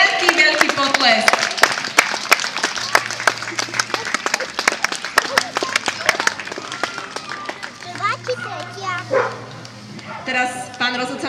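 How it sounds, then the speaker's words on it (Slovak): Audience clapping at a national dog show's Best in Show round for an American Akita, bursts of claps under a loud announcer's voice, with a dog barking and yipping partway through. "takže veľký, veľký potlesk"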